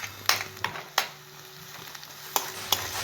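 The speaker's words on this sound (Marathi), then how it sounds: "मिरची लसूणचं वाटण हलकंसं तेलात परतून झालं" Onion, chilli and garlic paste sautéing in oil makes a low, soft sizzle punctuated by several sharp spoon clanks and scrapes against the pan at irregular intervals, close and without speech.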